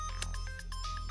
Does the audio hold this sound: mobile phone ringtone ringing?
yes